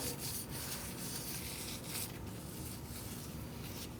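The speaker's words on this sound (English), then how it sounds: "I'm going to put a little anti-seize on our hub" Anti-seize being rubbed onto the wheel hub of a 2008-2014 Mercedes-Benz C300 makes a faint, continuous scratchy rubbing with irregular strokes, close up.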